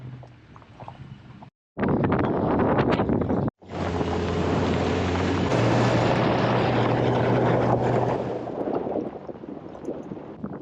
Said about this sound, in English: I'm watching Kevin fly's drone